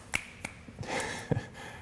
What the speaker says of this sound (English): Snaps.